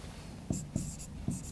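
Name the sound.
writing on a board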